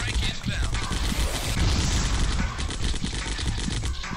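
Dual pistols in a video game fire in rapid, dense bursts of shots with mechanical clicks, loud and continuous, while a voice talks faintly underneath.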